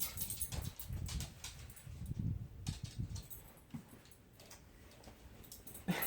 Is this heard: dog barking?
yes